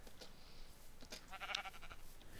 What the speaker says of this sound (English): Sheepy, sheepy. Hello, sheep.